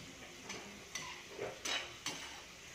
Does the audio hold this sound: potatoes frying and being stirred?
yes